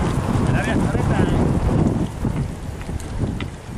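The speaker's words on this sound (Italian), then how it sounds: "Vento forte, mare in burrasca. Il vento si fa sentire." Strong gusts roar and buffet the microphone on a mountain hike up Monte Bisbino from the Swiss side. The wind is loud and continuous, easing slightly partway through.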